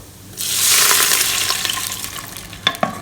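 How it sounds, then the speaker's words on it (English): Water hits a hot pan of browned braised pork ribs with a sudden loud hissing sizzle that slowly fades, followed by a couple of sharp clanks. "you add in 1 cup of water"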